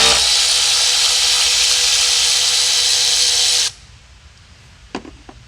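A power tool spins out the small 10mm bolt holding an ignition coil on a car with a cylinder 6 misfire: a steady, loud whirring run that cuts off abruptly, followed by a few faint clicks.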